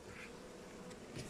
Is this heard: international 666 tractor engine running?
no